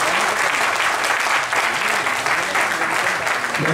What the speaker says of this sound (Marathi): जोरदार टाळ्या पुन्हा एकदा होऊन जाऊ देत तिच्या.